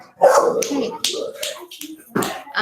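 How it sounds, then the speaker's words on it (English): A lively pet dog lets out several short, sharp barks and yips at irregular intervals, close by and loud, with some overlapping vocal noise. "I have a very naughty dog."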